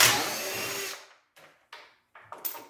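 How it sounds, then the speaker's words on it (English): An impact gun zips out bolts on a 2019-2022 Polaris RZR XP 1000, one long whirring burst followed by several short, fainter rattling bursts with gaps between them. "grab your trusty impact gun and go ahead and remove those 10 bolts"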